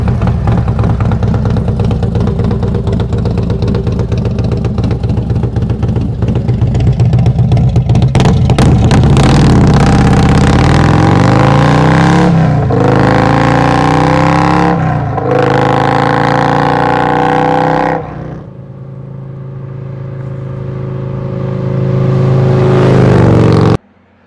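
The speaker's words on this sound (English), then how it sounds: "that exhaust was just too loud for me. I loved the sound of it." A loud Harley-Davidson motorcycle exhaust rumbles at idle, then revs repeatedly in strong bursts, dips back to idle, and swells again before cutting off.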